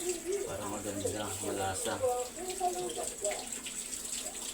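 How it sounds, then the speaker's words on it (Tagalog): Running tap water over vegetables being washed in a sink, a steady splashing stream beneath a person speaking nearby. "Hugasan natin siya ng maayos"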